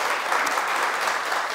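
Dense, steady applause from a seated audience at a parenting talk concert in Daegu, a continuous wash of many hands clapping at even loudness throughout, with no voices standing out.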